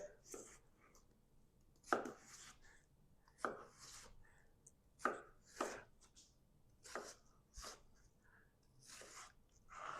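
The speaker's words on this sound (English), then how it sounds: "then you just basically slice the watermelon this way. And then slice it this way." A knife slices through a whole watermelon on a cutting board, landing in sharp, distinct chops about every second and a half, close and clear with no talking.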